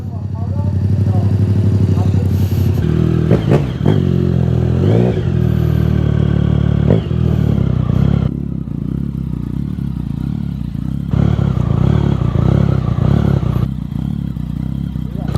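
Motorcycle engine idling close by, a steady low rumbling throb that holds throughout with slight unevenness, a few clattering knocks over it and people talking.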